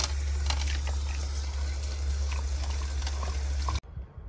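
Water runs steadily from a tap in a new Coachmen Beyond RV after dewinterizing, a loud continuous rushing flow that stops abruptly near the end, leaving faint room sound.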